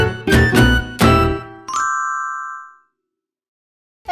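A short channel intro jingle opening an Italian film roundup: a few punchy, resonant chime hits followed by a bright ringing tone that decays into silence.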